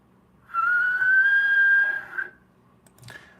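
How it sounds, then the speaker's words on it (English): A shrill, steady teapot whistle holds one high pitch for about two seconds, then cuts off, followed by a brief clatter. "nice little whistling teapot"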